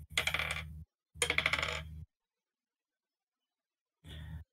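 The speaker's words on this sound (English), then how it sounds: "let me just roll another dice real quick." A die clatters across a tabletop during a Dungeons and Dragons game: two rattling rolls of about a second each, close and fairly loud, then a shorter third burst after a long silence.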